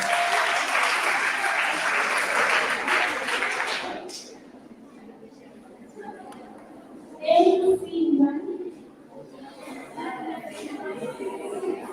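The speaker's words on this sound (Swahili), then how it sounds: "Wapigie makofi." An audience claps loudly at a girls' school biology contest, a dense burst of applause lasting about four seconds before fading into murmured chatter and a voice speaking.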